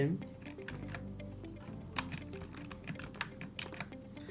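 Rapid, uneven clicking of computer keyboard keys while MIPS commands are typed, close and crisp, with bursts and short pauses, under a low background hum.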